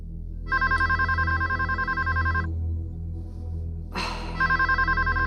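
A telephone rings with a bright electronic trill in two bursts separated by a short pause, loud and close over a low steady background hum, with no voices.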